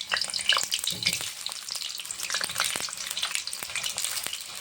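Washed, cut potatoes fry in hot mustard oil in a wok, giving a close crackling sizzle with sharp pops and spits that rise and fall unevenly; no speech.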